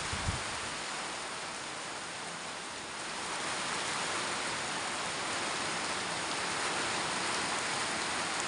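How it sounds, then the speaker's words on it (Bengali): Heavy rain during a storm over open rice fields, a dense steady wash of rainfall with gusting wind swelling slightly midway, continuous and fairly faint, no voices. "প্রচন্ড পরিমাণে বৃষ্টি হচ্ছে, দেখুন ঝড় হচ্ছে, বৃষ্টি হচ্ছে।"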